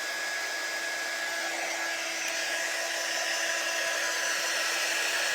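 A hair dryer blows steadily and loudly at close range, drying a layered heart craft door hanger, a constant whooshing drone with no talking over it.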